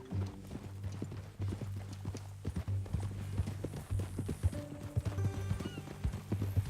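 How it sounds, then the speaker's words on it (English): Horse hooves clip-clop at a steady walking rhythm in Red Dead Redemption 2, near and clear over a low background hum, with a brief whinny-like tone late on. "That a new horse?"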